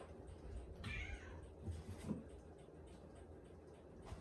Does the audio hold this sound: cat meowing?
yes